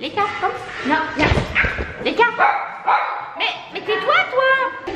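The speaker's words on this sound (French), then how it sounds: "C'est pas mon chien" A dog barks and whimpers in short, loud yips indoors while someone speaks French over and between the barks.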